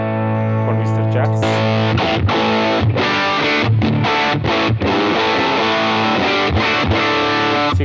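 Electric guitar played through a Mr. Jax distortion pedal, a loud, thick distorted tone with sustained chords and a run of picked notes and chugs following one another without a break.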